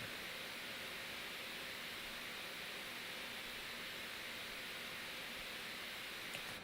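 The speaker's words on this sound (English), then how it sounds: "It's literally just white noise." Steady broadband white noise sample from a future bass production session in Ableton Live, a constant hiss at even loudness throughout with no other sounds.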